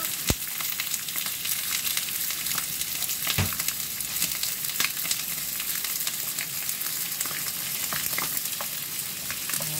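Onions and chorizo chicken sizzle steadily in a pan, a dense continuous frying hiss with occasional sharp crackles and pops, close and fairly loud, with no talking.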